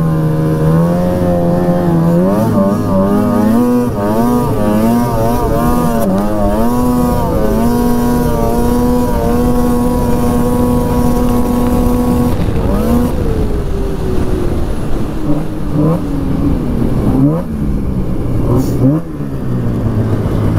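A 2005 Polaris Fusion 900 snowmobile engine with a loud muffler drones close and steady, its pitch climbing and falling through revs during a test drive, then dropping away toward the end.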